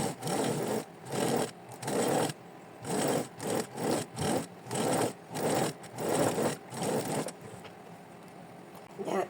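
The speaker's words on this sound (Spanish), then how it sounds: "vamos a realizar la costura por la parte superior de la pretina de la falda" A sewing machine stitches along the top of a skirt waistband in about a dozen quick, rhythmic rasping bursts with short gaps between them, close up. The sound then quiets to a soft hum.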